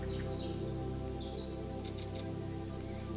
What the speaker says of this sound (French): Vous pouvez entendre les petits oiseaux